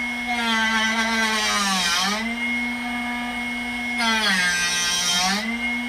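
A Drill Doctor 750X drill bit sharpener runs with a steady, loud motor whine while grinding a bit. The pitch dips and rises twice as the bit is turned in the port, with no talking.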